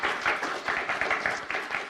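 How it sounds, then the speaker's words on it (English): A small audience applauding after a talk with the co-founders of Jobber, heard as a short, fairly soft burst of many scattered hand claps. "let's give these guys a round of applause for a great talk"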